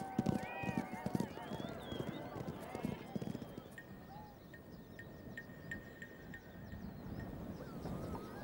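Horses with riders come in at the close of a race: clip-clopping hooves and a brief whinny up close, with background voices, giving way to quieter ambience and scattered chirps.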